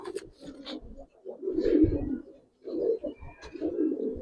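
Silver pigeons coo in low, throaty bursts, several rolling calls close by with short pauses between them, alone without talk.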